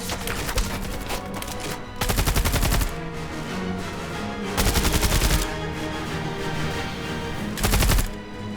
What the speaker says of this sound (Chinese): 我们听着枪声，等换弹间隙，然后冲过去。